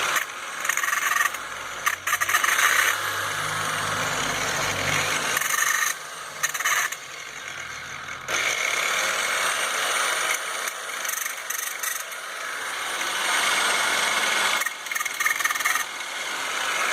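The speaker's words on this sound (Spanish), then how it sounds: "Voy a conectar la máquina." A gearbox test rig machine runs steadily and close, with a continuous grinding, rasping mechanical whir and brief dips and restarts along the way; no one speaks.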